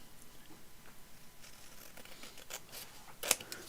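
Scissors trim the top of a paper tag with a few soft snips over faint rustling, ending in a pair of sharper cutting clicks near the end.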